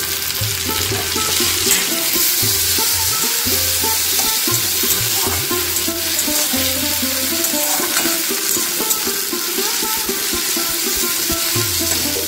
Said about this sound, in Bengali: এবার আমি দিয়ে দিচ্ছি একটা টমেটো কুচি।